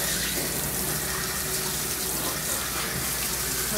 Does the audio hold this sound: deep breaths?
no